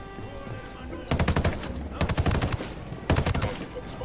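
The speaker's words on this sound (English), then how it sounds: "So prepare for gunfire, I suppose." Automatic gunfire in the open-world shooter Ghost Recon Wildlands, with short rapid bursts of shots cutting in after a quiet ambient stretch, a longer volley in the middle, then another brief burst, loud and close.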